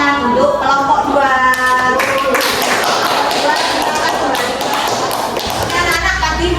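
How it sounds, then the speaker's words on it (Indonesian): A classroom of schoolchildren breaking into a round of applause for a presenting group, dense overlapping claps mixed with children's voices and a teacher speaking over them. "jangan lupa beri tepuk tangan untuk kelompok 2"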